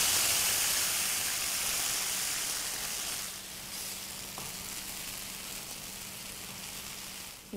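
Ridge gourd coated in poppy seed paste hits hot oil in a pan, producing a loud, steady sizzle that settles into a softer continuous frying hiss with faint stirring clicks.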